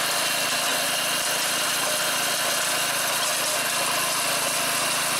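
A fire-damaged John Deere 110 garden tractor engine runs steadily at idle, a continuous mid-pitched mechanical drone with slight vibration, close by and alone, no talk.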